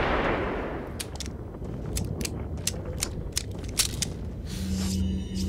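Gunfire in Resident Evil 4 sounds as a series of sharp shots at an uneven pace over a busy game soundscape, loud and close.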